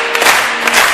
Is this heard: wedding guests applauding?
yes